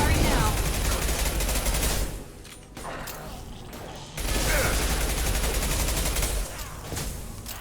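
Rapid automatic gunfire in the Mass Effect 2 video game, dense continuous bursts with a short lull in the middle before firing resumes, loud and close with game mechanisms clanking underneath.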